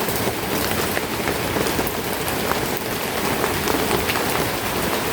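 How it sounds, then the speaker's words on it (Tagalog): Heavy rain falling steadily outdoors, a dense continuous hiss of drops on surfaces, loud and close with no voices. "Basang-basa na tayo sa ulan, no?"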